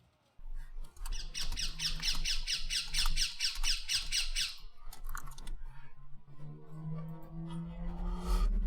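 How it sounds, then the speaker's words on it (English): A pet bird squawks repeatedly indoors in a fast rhythmic burst of harsh calls, then falls quiet amid room noise and a low hum, with a few faint scattered chirps afterward. "the bird is less distracting than the dishwasher was"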